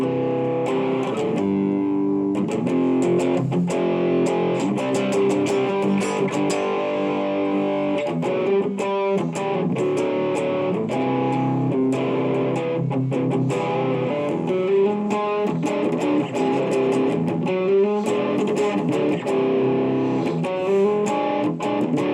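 Heavily distorted electric guitar through a Blackstar Fly 3 amp with a Sovereign distortion pedal, played into a 4x12 cabinet, continuous, thick and loud, with chugging chords and sustained notes throughout.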